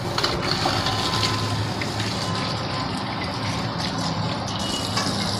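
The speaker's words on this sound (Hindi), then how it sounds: "हमें एंगल को ऑन करें, ये पानी आपका चालू हो गया" Water gushes steadily from the tap of a newly installed countertop wash basin once the angle valve is opened, a loud, continuous rushing flow heard up close.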